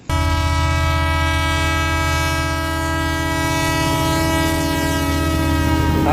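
An Indian Railways train sounds a long, loud, steady horn at a station on a Bhavnagar journey, the sustained tone running for about six seconds with no talk.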